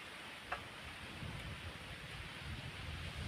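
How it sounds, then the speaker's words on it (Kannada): Soft, steady rain patters down with a low rumbling wash underneath, fairly quiet and continuous, with one brief tap near the start. "ಅಷ್ಟೇನು ಜೋರಾಗಿ ಬರ್ತಾಯಿಲ್ಲ, ಸುಮಾರಾಗಿ ಬರ್ತೈತೆ ಮಳೆ."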